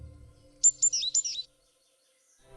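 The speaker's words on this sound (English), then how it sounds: "one can hear and be amazed by the sounds of chirping birds" A small bird in a winter forest in Polissya, Ukraine, gives a quick series of five or six high, thin chirps in a quiet setting, then silence.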